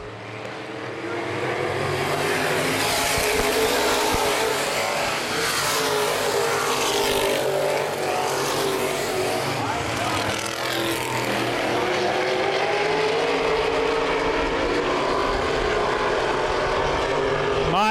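Open wheel modified race cars racing at Baer Field Speedway, a continuous loud roar of several engines sweeping past, with a commentator talking over the noise.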